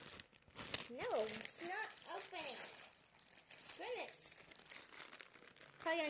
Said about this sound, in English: Where do you open this?